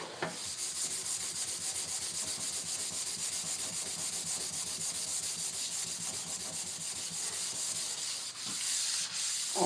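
Steady scrubbing with a brand new sponge on a household surface, a continuous rough rubbing texture with a quick back-and-forth rhythm, close and fairly loud, no talking.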